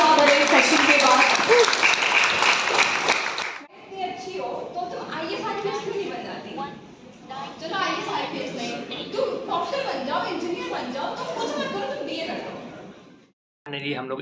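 Applause and cheering from a large audience at the Bihar Mahotsav cultural festival, a loud burst at first, then continuing clapping mixed with crowd noise and talk.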